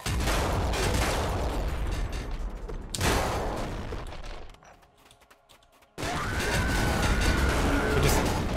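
Gunfire bursts from Nuclear Throne, with dense crackling shots and booming impacts in loud stretches, a brief quieter gap, then a resumed barrage; the exact plasma cannon sound is not distinct.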